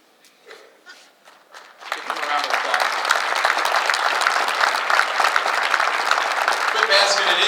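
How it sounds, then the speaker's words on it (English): Audience applause at a city's State of the City address, honoring city employees; after a couple of seconds of scattered claps and shuffling, a broad, steady wave of clapping swells in and holds strong, with voices mixed in. "Give them a round of applause."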